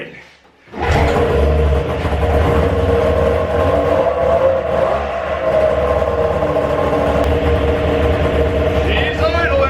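An old snowmobile engine left sitting for over seven years starts and settles into a steady, loud idle, running continuously and close by after a brief quiet start.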